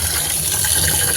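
Water gushes steadily from a tap or is poured into a pot to soak rice in a home kitchen, a continuous close, loud splashing flow with no talk.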